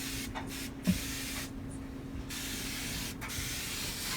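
Oven cleaner spray hisses steadily against carbon buildup on a cast iron pan, a continuous broadband fizz with short bursts of spraying and a small knock, close up with no voices.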